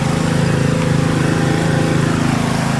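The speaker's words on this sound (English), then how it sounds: "Our pump just idled down." A small engine driving the pump on a farm chemical sprayer, running steadily at idle with a low, even throb that stays constant and close.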